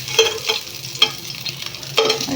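Oil frying in a pan while cooking Filipino adobong sitaw with garlic and onion, a steady close sizzle broken by several sharp spatters and stirring scrapes, with no talking.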